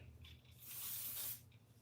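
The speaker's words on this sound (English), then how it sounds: "I just hit it with a little holding spray so that my press can last longer" A short burst of holding hair spray from an aerosol can, a soft rising hiss lasting about half a second before cutting off, close and quiet, with no talking.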